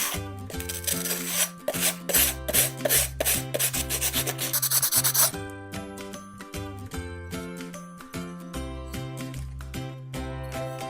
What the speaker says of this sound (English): you want to sand all this down